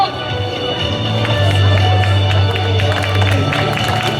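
An audience of schoolchildren and staff claps steadily at a school welcome assembly, a dense, sustained patter of applause filling the hall with some voices mixed in.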